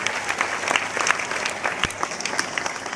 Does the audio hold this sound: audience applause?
yes